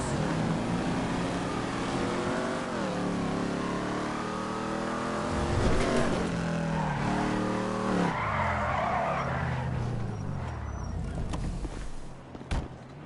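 A car in GTA 5 revs through rising and falling gears and skids with screeching tires, loud and close, ending in a brief thump.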